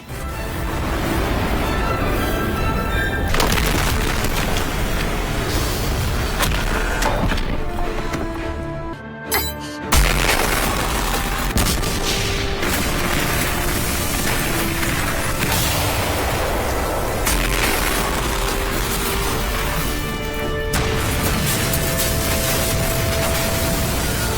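Plasma cannon blasts in an anime battle, rendered as dense, roaring explosion noise that rumbles continuously, loud and close, with a sharp crash near the middle, no speech.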